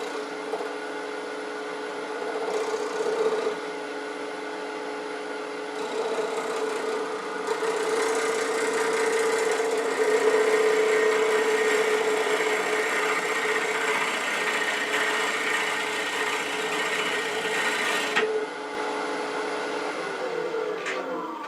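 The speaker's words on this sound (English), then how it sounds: "I'm going to come in here with a smaller bowl gouge, less steel, less friction" A smaller bowl gouge cuts a wooden bowl with a bark rim on a spinning lathe, giving a sustained hum and whirring scrape with a tonal band. It runs steadily for about twenty seconds with slight shifts as the cut progresses, and no talk.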